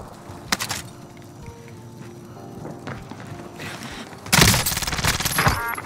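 Gunfire in Call of Duty Warzone, a couple of isolated sharp shots early, then a loud, close burst of rapid fire near the end over low background game noise.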